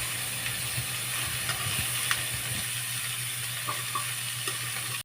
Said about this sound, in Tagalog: Pagkalagay natin ng langka, ay hahalu-haluin lang natin yan